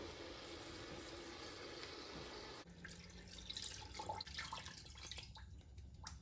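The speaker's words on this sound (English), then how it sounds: "One jar full of water down." A jar of water is poured into an Instant Pot, heard as a faint continuous splashing flow that shifts partway through into quieter trickles and drips.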